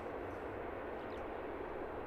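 A Gulfstream jet at Luton Airport gives a steady, distant engine roar and rush that holds evenly throughout, with no other sounds standing out.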